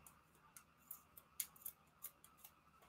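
Scissors snipping through fabric, a quick irregular series of crisp metallic cuts close by and fairly quiet, with no talking.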